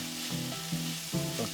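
Skirt steak sizzles and browns in a pan, a close, steady frying hiss with a few short tonal scrapes over a brief stretch, no voices.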